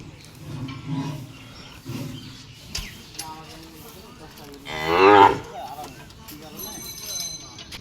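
A Sahiwal bull lets out one loud, drawn-out moo partway through while cattle are loaded onto a truck, with quieter talk and handling noises before and after.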